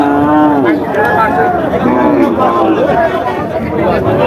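A cow lows repeatedly at a cattle market, long wavering moos close by over constant crowd chatter and voices of people talking nearby.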